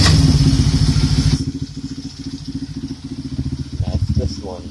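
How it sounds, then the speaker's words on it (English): A small Honda CRF50 pit bike engine idles with a rough, pulsing putter, close and loud at first, then lower and uneven, with brief revving near the end. "this one idles a lot better"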